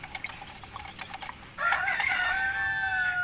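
A young Asil rooster, a stag, crows once at close range in a long wavering call, preceded by soft clucks and small scratchy movement noises.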